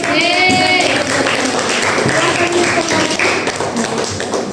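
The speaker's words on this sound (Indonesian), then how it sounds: "Oke, beri aplaus semua." Applause in a classroom: a dense, loud wash of many hands clapping at once, steady throughout with a few voices mixed in.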